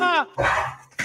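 A dog barks three times in quick succession, close and fairly loud, each bark short and sharp with brief gaps between them.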